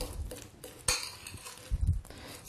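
Avocado is roughly mashed for guacamole in a bowl, with clinking and scraping of a utensil against the dish, soft squishing thuds and a couple of sharper knocks, close up.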